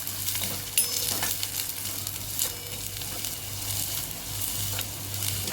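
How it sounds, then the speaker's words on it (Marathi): Steady sizzling and crackling of onion, French beans and carrot sautéing in a pan, with a few soft scraping stirs and a low constant hum underneath. "इथं भाज्या आपल्या परतून झाल्यात,"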